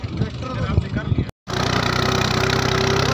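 A tractor engine on a mountain journey to remote lakes, with talk and outdoor noise first, then after a brief cut a loud, close engine drone running steadily.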